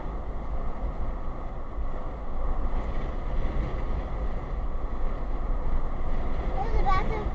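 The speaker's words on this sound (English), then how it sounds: "The wind's so strong." Strong gusting wind roars steadily through an open car window, a dense low rumble filling the clip from start to finish, loud and close to the microphone.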